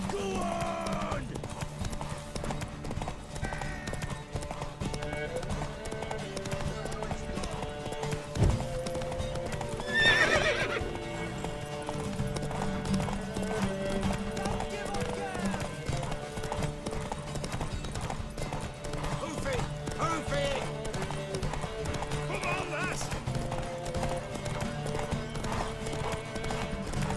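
Horse hooves clip-clop steadily at a gallop in The Witcher 3, with a couple of loud whinnies partway through, heard over continuous game music and ambience.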